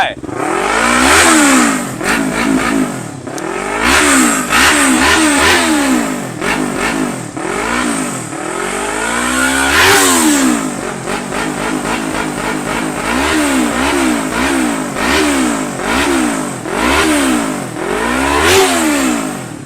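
A 2015 Yamaha YZF-R3 sport motorcycle engine revs up and down repeatedly toward 10,000 rpm, rising to high-pitched screams and falling back in quick bursts, close and loud.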